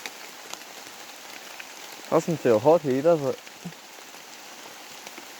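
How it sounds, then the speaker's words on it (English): Rain falling in a rainforest at Rocky Creek Dam, a soft steady patter on leaves and ground under a brief spoken remark from a nearby voice. "Oh, it's raining and it's running in the rainforest."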